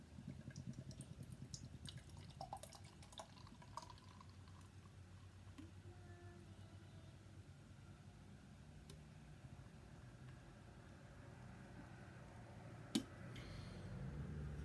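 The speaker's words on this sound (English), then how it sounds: "Let's pour it out into this Pilsner glass" Coors Light lager, Australian-brewed 4.2% version, poured from a 355 ml can into a Pilsner glass: a steady, soft liquid stream with faint fizz and drips, alone and fairly quiet throughout, with one sharp clink near the end.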